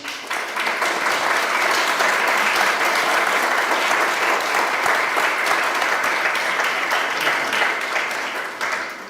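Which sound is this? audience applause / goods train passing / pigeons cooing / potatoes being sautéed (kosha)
audience applause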